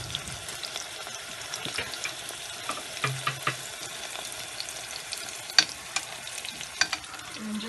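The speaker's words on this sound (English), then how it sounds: "I don't know if you can hear the sizzling." Steady sizzling and crackling of eggplant stir-frying in a hot pan, with occasional sharper pops and clinks of stirring, no voices.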